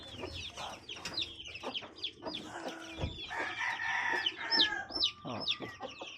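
Newly hatched chicks peep shrilly and continuously in a backyard setting, their high overlapping calls close and busy, with occasional handling noises and a faint voice in the background.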